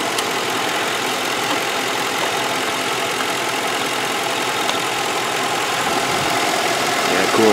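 An overheating Lincoln Town Car idles with its A/C compressor running and the cooling fan off, a steady, close, even engine hum with a hissing broadband wash and no gaps.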